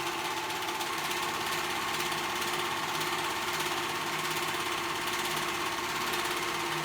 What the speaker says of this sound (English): I'm gonna sew that side together